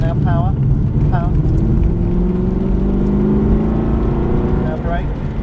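An Aston Martin sports car accelerating hard while driven on a track, its engine loud and rising in steady pitch over several seconds, with a voice talking over it.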